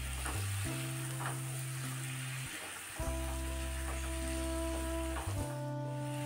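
Marinated chicken sizzles in oil and spice paste in a pan for chicken kasha, stirred now and then, with a steady hiss and a low tonal hum running underneath, no voices.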